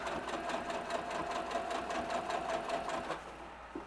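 A sewing machine stitches a patch onto a piece of clothing, running in a fast, steady, close-up whir that stops abruptly near the end.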